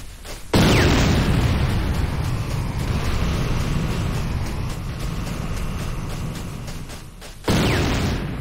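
A Tiberium refinery is destroyed in the video game Renegade with a loud, sudden explosion that rumbles and decays over several seconds, followed by a second abrupt blast near the end.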